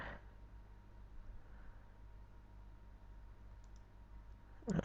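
A computer mouse double-clicks once near the end, a short sharp pair of clicks close by after several seconds of quiet room hum.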